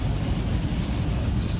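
Hurricane Harvey's winds roar just outside its eye, a loud, constant buffeting rush that batters the microphone with no letup.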